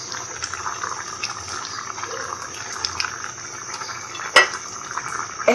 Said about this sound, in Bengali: সিম আলু মোটামুটি সিদ্ধ হয়ে আসছে।